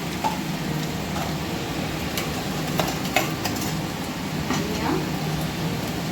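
Loud sizzling in a hot pan with scraping stirs as a ground spice paste meets frying onions for a prawn curry; a faint voice murmurs in the background.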